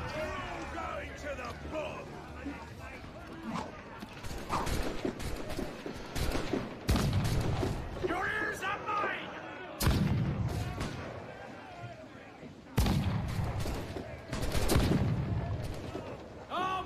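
Cannon booms and gunfire from a naval battle in Assassin's Creed IV ring out as heavy, loud blasts every few seconds over a rumbling backdrop, with a voice talking at times.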